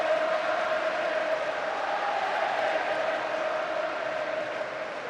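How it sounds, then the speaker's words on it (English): Football crowd at a 2005 cup final, a steady far-off roar of many voices with a faint sung note running through it, fairly even and slowly easing toward the end. "Crowd finding its voice now."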